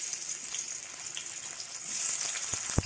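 Tomatoes hitting a hot pan for a pea and eggplant curry set off a steady, hissing sizzle of frying that runs throughout, with a couple of brief clinks of stirring near the end.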